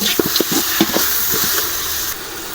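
Tomatoes go into a pan of frying onions for mutton biryani, bringing a loud, steady sizzle with a rhythmic series of spoon-stirring scrapes at the start that fade into continuous hissing frying.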